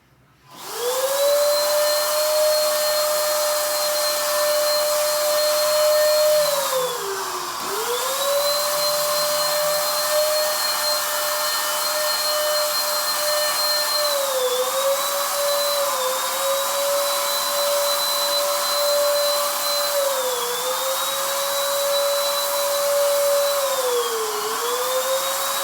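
A Deko electric paint spray gun runs alone for the whole stretch with a loud, steady motor whine that dips briefly in pitch several times and then recovers.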